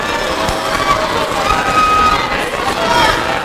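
A college men's basketball crowd at a CBU versus Lane game rumbles with loud, continuous cheering and chatter, with voices speaking over the noise.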